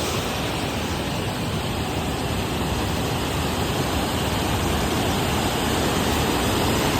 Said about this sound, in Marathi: पाण्याचा आवाज एकदम खतरनाक आहे बाई